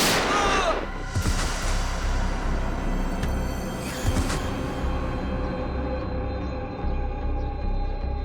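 Gunfire in a tense crime-drama chase: a sharp bang up front, then a couple more cracks and thuds ring out over a dense, echoing background.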